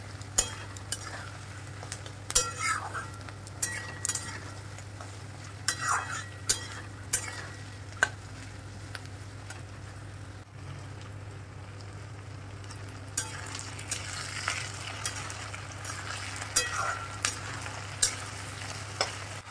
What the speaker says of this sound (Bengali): আলু ভাজতে একটু টাইম লাগে।